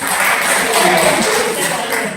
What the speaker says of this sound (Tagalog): Palakpak mga cute.